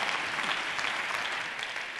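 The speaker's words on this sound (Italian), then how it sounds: "Lo accogliamo con un applauso" Dense, steady applause from a large audience fills the whole stretch, loud and even with no pauses or voices.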